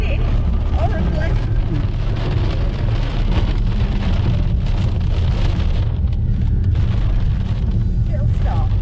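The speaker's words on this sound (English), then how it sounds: "we're in the car and it's raining horribly" Heavy rain drums on a car roof at St Annes on the Sea, heard from inside the vehicle as a loud, dense, continuous roar with no break.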